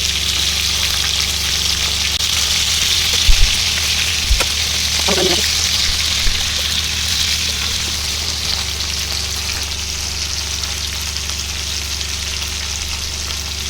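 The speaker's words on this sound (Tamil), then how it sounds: "இந்த சிக்கன் ஒரு பக்கம் நல்லா வெந்துடுச்சு திருப்பிக்கலாம்" Chicken pieces frying in a pan give a loud, constant close sizzle, with a couple of brief knocks as pieces are turned and a faint scraping, no voices.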